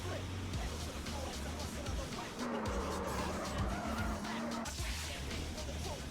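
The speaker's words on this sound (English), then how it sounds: "I'm trying to see if I can get a good drift in without hitting anything" A car drifting with squealing, skidding tires in the video game Street Racing Syndicate, a steady engine drone under a long wavering tire squeal, loud and continuous.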